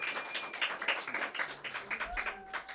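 Applause from an audience at a National Arts Club poetry reading, a steady wash of clapping with scattered louder claps and a few voices mixed in, moderately close.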